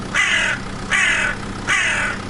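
A crow caws loudly three times in an even rhythm, harsh, close calls separated by short pauses.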